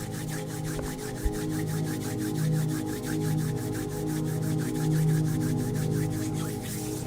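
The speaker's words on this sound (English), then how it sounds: "Maybe bring those hands together in front of you and gently rub them together." Two hands rub gently together during a morning meditation, producing a continuous quick back-and-forth swishing close by over a low steady hum.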